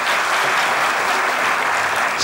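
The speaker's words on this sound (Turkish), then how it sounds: "Bana da fazla geldi diyenler alkışlasın." A theatre audience breaks into steady, dense applause that fills the whole moment, loud and continuous with no pauses and no voices on top.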